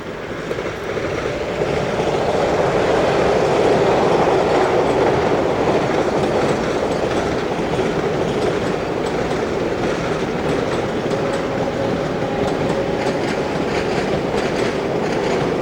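A Freightliner freight train from Southampton to Ripple Lane rolls past, a steady loud rumble with rhythmic wheel clatter and a faint squeal, sustained alone throughout with no talk.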